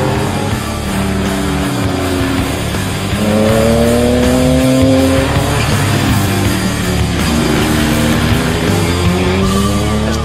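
A Porsche 993 GT2 race car drives with its engine loud and close, revs sweeping up and down through gear changes, and a brief tire squeal. No voices.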